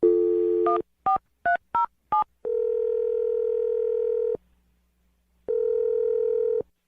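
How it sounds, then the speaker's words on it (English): A telephone dials a number: a short tone, then four quick keypad beeps in a row, followed by two long, steady ringback tones separated by a silent gap. "We're gonna dial her phone number right now"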